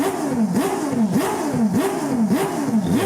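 A Mazda 787B rotary race car engine played back from a video: repeated sharp, high-pitched revving sweeps climbing and dropping about five times in quick rhythm, loud and buzzy.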